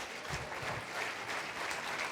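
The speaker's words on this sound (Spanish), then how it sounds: "Dale un aplauso al Señor, por favor." Church congregation applauding during a Spanish-language sermon, a fairly faint, steady wash of many hands clapping at once in a hall, with no speech over it.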